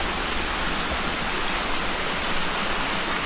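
Water rushes through a wet-weather spring brook swollen by heavy rain, making a constant, dense hiss that stays even and unbroken.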